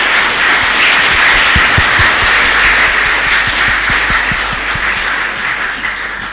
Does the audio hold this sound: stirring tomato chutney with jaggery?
no